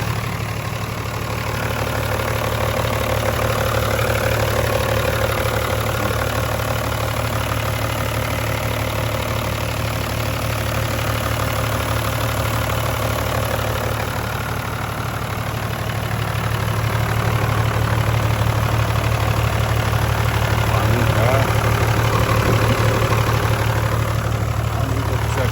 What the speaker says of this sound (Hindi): ये है जनाब इसका इंजन बे।